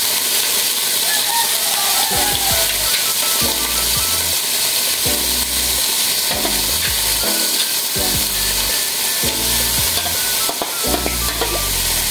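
Ground pork hits a little hot oil in a pan and sizzles loudly and continuously, with repeated scraping of a spatula stirring the meat in a steady rhythm close by.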